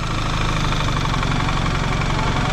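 Steady, loud BMW R1300GS Adventure motorcycle engine idle with a throbbing low-frequency rumble and some rattling vibration, running continuously without voices.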